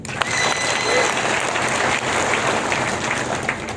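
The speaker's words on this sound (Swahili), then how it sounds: "Mpigeni makofi." Crowd at a live political gathering breaking into applause, a thick continuous roar of clapping with some cheering mixed in, loud and steady throughout.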